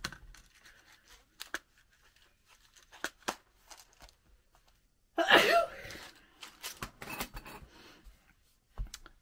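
A single sharp sneeze bursts out midway through a quiet room where someone is assembling a chunky needle book, amid soft scattered rustles, clicks and taps of crafting materials.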